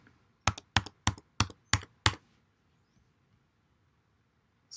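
Six crisp, evenly spaced keystrokes on a computer keyboard as a PIN is entered, close and clear, followed by near silence.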